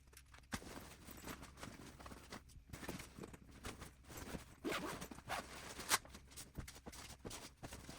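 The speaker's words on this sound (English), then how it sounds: "Now I'm going to unzip the entire bag and show everything that's inside of it." The zipper on an Areyteco 50L travel backpack is pulled open all the way around, giving a quiet, close series of short zipping rasps in uneven bursts over about eight seconds.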